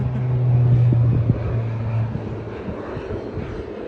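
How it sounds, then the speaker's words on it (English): Small propeller planes fly near the little Skagway airport in Alaska, a loud steady engine drone that swells early and then fades off into the distance. "So these little tiny planes have been, you know, coming in and out throughout our hike"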